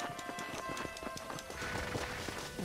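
Horses pull a stagecoach in the video game Red Dead Redemption, their hooves clip-clopping in a quick, even rhythm. The sound is fairly faint and steady, with a light background bed and no talk over it.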